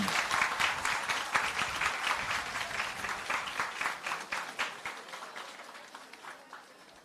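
Thunderous applause from a crowd of about a thousand high school students at a school assembly, dense clapping that swells at first and then gradually fades, with no voices over it.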